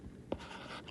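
A single brief scratch of a pen on paper during a math lesson, faint and close, with a low room hum behind it.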